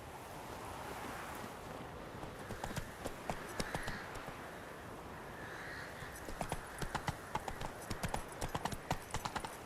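Horses arriving in The Witcher 3: Blood and Wine, their hooves clip-clopping at a steady trot that grows busier and closer toward the end, set against a windy, surf-like ambient wash.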